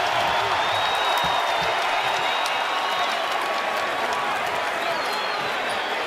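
A basketball crowd at the Target Center in Minnesota cheers and applauds steadily, a dense, loud roar of clapping and voices filling the arena without pause.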